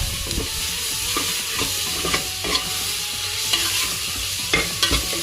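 Tomatoes frying in a pan for red biryani, with a continuous soft sizzle broken by repeated scraping and stirring knocks at irregular intervals, close by and without speech.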